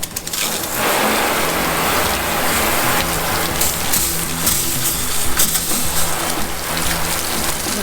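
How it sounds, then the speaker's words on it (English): A steady, dense hiss of water spraying from a garden hose onto a car, continuous and close, with a brief lull at the start. "let's hose it down. Spray it down and check it out."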